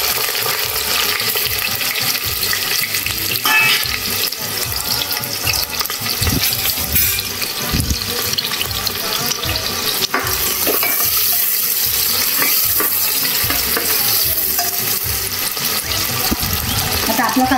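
Onion dropped into two spoons of hot oil in a pan, giving a loud, steady, close-up sizzle that hisses continuously throughout.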